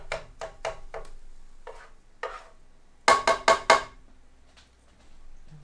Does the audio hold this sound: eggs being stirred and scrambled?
yes